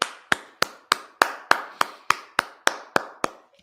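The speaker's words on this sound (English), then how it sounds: "All right, clap that up." Congregation at a Sabbath service clapping in unison, about eleven crisp, evenly spaced claps in a steady rhythm, loud and close with no talking.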